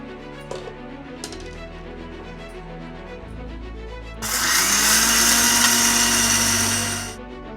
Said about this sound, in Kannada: ಇದನ್ನು ಇದಕ್ಕೆ ಮಿಕ್ಸಿ ಮಾಡ್ಕೊಂಡ್ಬಿಡ್ತೀವಿ.